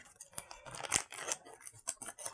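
Small pink scissors snip through plastic fishing lure packaging with a series of quick, crisp, irregular cuts and crinkles, close up and fairly quiet, with no voices.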